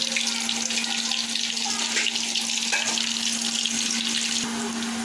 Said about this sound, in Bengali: তেলে পেঁয়াজ দিয়ে দিল।